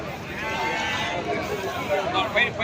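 Sheep and goats bleat at a busy Sunday livestock market in Pileru, with animals for Bakrid sale; several calls rise out of a constant crowd murmur while people talk nearby.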